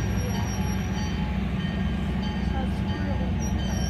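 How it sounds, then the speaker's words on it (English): A heritage dinner train rolls past on the B&SVRR line, a loud continuous rumble of wheels on rail with thin, high squeals threading through it and faint voices of bystanders underneath. "That's the dinner train, Dawson."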